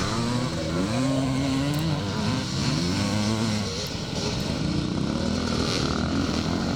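Racing motorcycles in a scramble race pass in a dense pack, engines droning and shifting pitch throughout, loud and continuous with no pauses.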